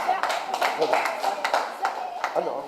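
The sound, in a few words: applause from audience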